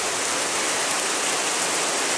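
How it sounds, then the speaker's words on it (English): Steady heavy rain pours outdoors as a dense, unbroken hiss, loud and close, with no voices or other sounds over it. "We're getting a lot of rain"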